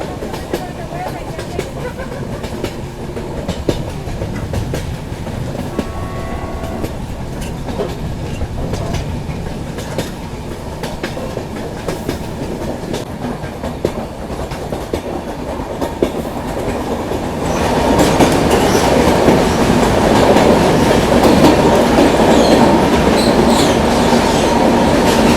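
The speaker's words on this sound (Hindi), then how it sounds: "वही रेलवे ब्रिज है सामने, इसको हम लोग क्रॉस कर रहे हैं।" AC Express train crossing a railway bridge, heard from on board as a continuous loud rumble and rhythmic clatter of wheels on track that grows louder and harsher partway through.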